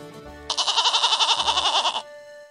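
A goat bleats once in a loud, rapidly quavering, trembling cry of about a second and a half, close and alone over soft background music.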